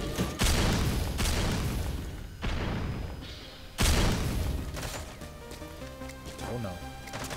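Grenade explosions in a competitive shooter match: three loud, close booms land at intervals, each a sharp broadband blast with a decaying tail, layered under steady commentator speech.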